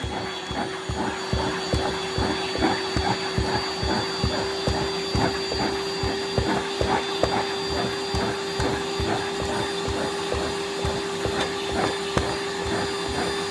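A Rainbow SRX vacuum cleaner runs continuously during an in-home demonstration, a loud steady motor whine with a strong sustained tone and a rapid rattling pulse underneath, close and unbroken for the whole stretch.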